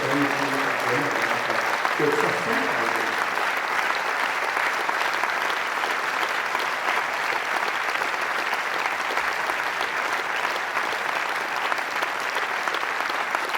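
A seated audience at a spiritual discourse breaks into sustained, dense applause that fills the whole stretch evenly, with only a few voices at the very start before the clapping takes over.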